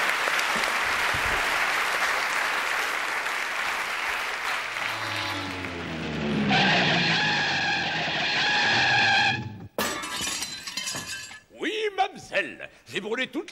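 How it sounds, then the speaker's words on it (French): A studio audience applauds loudly for several seconds, the clapping swelling then cutting off abruptly before voices and other sounds take over. "Réginald les applaudissements de la foule, bien sûr."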